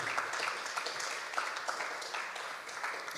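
Steady applause from a crowd, dense and continuous, at moderate volume with no talking over it.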